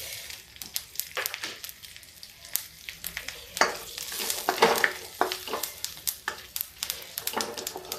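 Whole spices, including black cardamom, cumin and fennel, sizzle and crackle in hot oil for a tadka, with sharp irregular pops and bursts over a soft frying hiss, close and fairly quiet.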